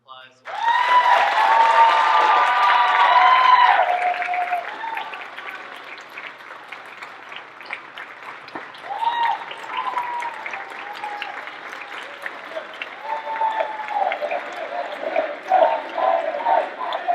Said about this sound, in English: go ahead and give Major a round of applause.